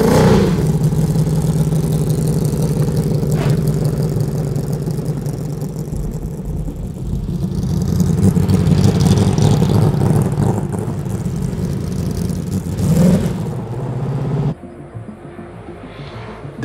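A loud, throaty Mercedes racing car engine at the Mille Miglia road race rumbles steadily, swelling as it revs up, then drops abruptly to a lower idle near the end.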